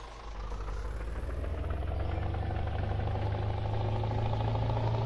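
A Scania truck engine with an open pipe exhaust, from the video game Farming Simulator 19, drones steadily in a deep, rumbling, continuous tone that builds slightly as it runs, with no talking.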